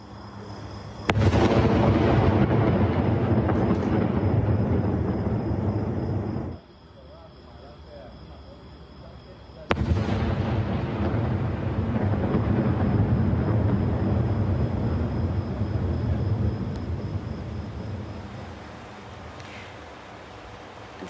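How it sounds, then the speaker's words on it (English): Heavy outgoing artillery fire in the northern Israel border towns toward southern Lebanon, heard as two long, loud rumbling roars, each sustained for several seconds with a gap between them. "The sound of heavy artillery fire in the border towns captured by our camera crew."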